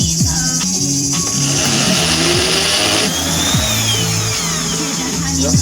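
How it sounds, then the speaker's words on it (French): A power drill re-drills a hole during kart building, its motor whirring loudly and steadily with shifting pitch throughout, mixed with clattering workshop noise. "Donc là on va repercer."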